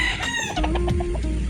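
A backyard SBR chicken clucks and crows up close, with a loud rising call over steady background hum.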